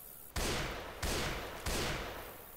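Three loud, evenly spaced gunshot blasts from a weapon in the zombie shooter game Left 4 Dead 2, each a sharp crack with a short fading tail, with no talk over them.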